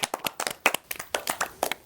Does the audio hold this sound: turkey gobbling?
no